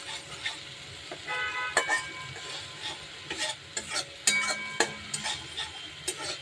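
Bottle gourd leaf paste frying and being stirred in a little oil with salt and turmeric, with soft continuous sizzling and repeated scraping strokes of a spoon in the pan, close up and steady.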